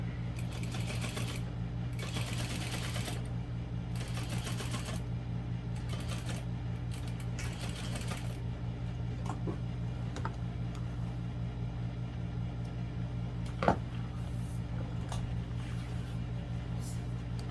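A sewing machine top stitches a seam on a barrel bag in several short bursts of rapid mechanical whirring, close by, separated by quieter pauses with faint handling noises.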